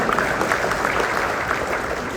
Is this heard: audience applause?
yes